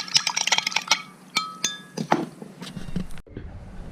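A spoon stirs yeast nutrient in a glass for home wine making, with a rapid series of close, bright clinks and rattles against the glass for about three seconds before it stops.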